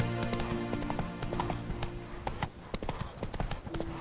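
Hooves of Roach, Geralt's horse in The Witcher 3, clop rapidly in an even galloping rhythm, close and prominent, with tack rattling over a tonal game score.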